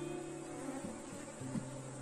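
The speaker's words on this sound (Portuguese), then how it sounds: "Então aqui vai vir muita abelha na câmera" Honeybees swarming around an opened hive during a colony split, a dense, steady buzzing hum close to the microphone with wingbeat tones shifting in pitch as bees fly past.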